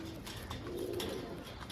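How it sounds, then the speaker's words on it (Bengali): Low pigeon cooing, faint and steady, comes from a nearby group of caged birds. "খুব সুন্দর কোয়ালিটির পায়রা আছে"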